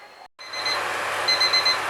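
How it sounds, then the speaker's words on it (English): A kitchen timer goes off while fudge boils, giving thin, high repeated beeps over a low steady background hum, fairly close, with a short silent gap before it. "Okay, so the timer's just gone off."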